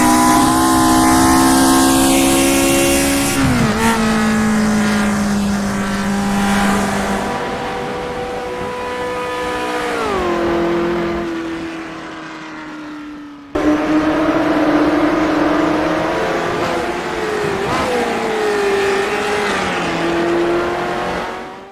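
Racing car engines in the rFactor 2 sim drone loudly and continuously, pitch climbing through gears, dipping under braking and rising again out of corners, with a brief cut midway and occasional tyre squeal; no talking.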